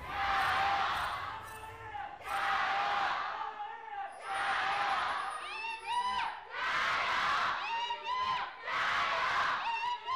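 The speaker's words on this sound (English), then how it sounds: "The crowd is actually getting louder as this series has gone on." Esports arena crowd at an EDG series match roars in repeated loud waves of cheering and shouting across the stretch, with brief dips between swells.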